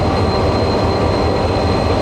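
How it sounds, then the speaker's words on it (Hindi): Mehran Express passenger train of four or five coaches moving at a station platform, a steady loud rumble of wheels and cars with a faint high whine, continuous and close, no talking. "रात इसने गुजारी इस ट्रेन ने मेहरान एक्सप्रेस ने मीरपुर ख़ास में, और अब ये वापस जा रही है कराची।"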